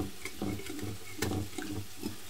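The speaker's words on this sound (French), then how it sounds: "Je mélange le tout." Cooked pasta being stirred with a ladle of its starchy cooking water, with soft wet scraping and clicking strokes repeating in a quick, uneven rhythm, close and clear.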